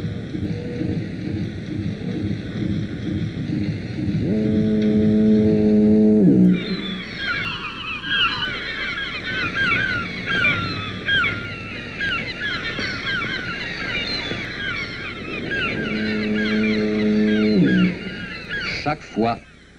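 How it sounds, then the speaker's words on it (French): A lighthouse foghorn on the bird island of Rocher aux Oiseaux in the Gulf sounds two long, deep blasts, with gulls and northern gannets calling in a busy chorus between them. "le mugissement de la sirène chasse goélands et fous de bassin"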